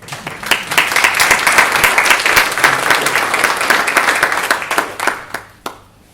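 Audience at a real estate seminar applauds, with many hands clapping in a lively burst that thins out into a few scattered last claps near the end.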